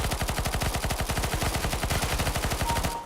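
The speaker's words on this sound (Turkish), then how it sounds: "Oha bizon sesi mi değişmiş?" Rapid automatic PP-Bizon gunfire in the video game CS:GO, a dense, steady stream of close, loud shots that runs without a break.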